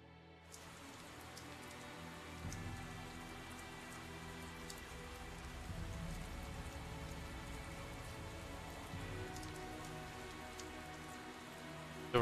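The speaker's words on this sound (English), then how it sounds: "A year since the rain started?" Quiet, continuous rainfall in the video game Borderlands 2 patters steadily for the whole stretch, a soft even wash of drops with no break.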